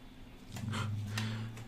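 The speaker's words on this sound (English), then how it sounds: "My dog's barking." A dog barks indoors: a few short, muffled barks in quick succession over a low, constant hum, somewhat distant and not very loud.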